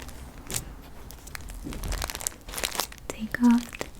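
Tissue paper crinkles and rustles in irregular soft bursts, close and quiet, with a brief faint voice sound near the end.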